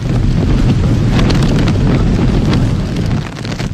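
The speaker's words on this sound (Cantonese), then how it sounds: "杏花邨下晝風雨都開始增強" Typhoon Koinu's wind and rain lashing Hong Kong's Heng Fa Chuen waterfront, a loud, continuous roaring buffet of gusts and rain pounding the microphone with no speech.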